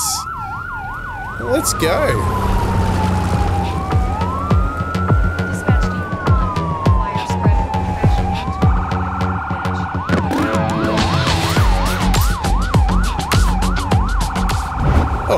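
Wailing and yelping emergency vehicle sirens from a fire truck in the Firefighting Simulator - The Squad video game, loud and continuous with engine rumble, shifting between fast yelps and slow wails, with a brief spoken line over them.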